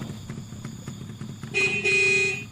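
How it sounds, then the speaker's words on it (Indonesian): A close, loud motorcycle horn honks in a short double blast after a moment of low road rumble. "Suara klakson motor"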